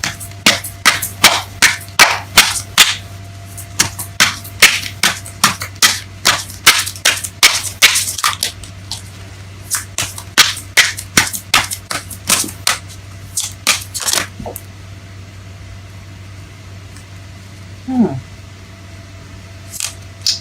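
Tarot cards are shuffled close up in a long run of sharp, rapid slaps and snaps, then a quieter pause with a brief vocal sound near the end.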